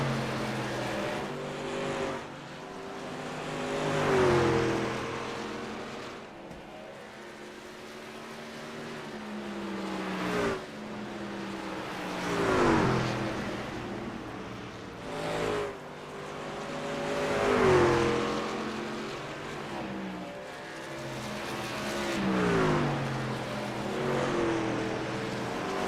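NASCAR trucks race at The Clean Harbors 250, engines roaring in repeated waves as trucks sweep past, swelling and fading every few seconds with a steady mechanical drone between passes.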